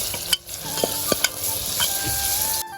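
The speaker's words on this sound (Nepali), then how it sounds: "अदुवा लसुनको पेस्ट पनि हाले यो पाक्दै गर्छ" Ginger and garlic paste fry in a pan for Nepali-style pork leg, giving a steady close sizzle with a few stirring clinks and scrapes and no talk.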